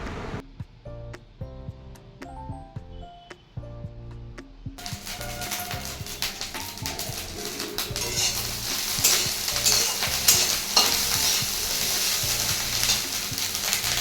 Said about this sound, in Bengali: এখন রান্না করছি ভাত ভাজা